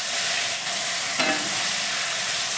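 Potatoes hit hot oil tempered with cumin seeds and bay leaves, giving a loud, dense, steady sizzle with a brief louder burst as they go in, no talking.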